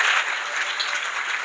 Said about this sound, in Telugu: గట్టిగా చప్పట్లు కొడుతూ ఆనందం